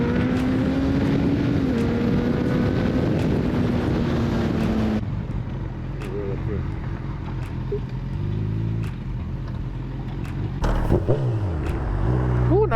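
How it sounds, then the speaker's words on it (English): Road traffic passing around a motorcycle rider, loud and continuous with wind rush over the microphone, dropping to a lower rumble midway before another vehicle swells past near the end. "So much traffic today."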